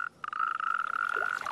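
Toads croaking in a breeding chorus at an Iberian pond in winter: a sustained, dense trill of overlapping calls, fairly close and steady, alone without voices.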